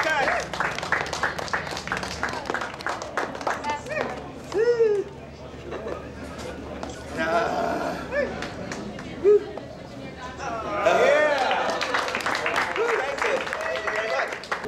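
An audience at a sword swallower show claps and cheers in several bursts, with crowd chatter and someone talking in between the rounds of applause.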